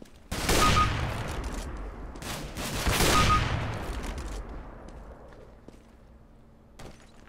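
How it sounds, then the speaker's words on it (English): Desert Eagle pistol firing in the video game CS:GO, two loud close shots roughly two and a half seconds apart, each with a long reverberant tail, followed by quieter clatter. "Go ahead, use the deagle again."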